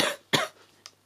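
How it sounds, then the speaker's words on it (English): A person with a bad cough lets out two or three short, sharp coughs in quick succession, close and fairly loud, with a quieter final catch. "Sorry, I have a really bad cough."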